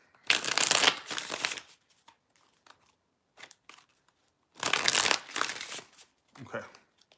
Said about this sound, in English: 3 more shuffles, all right.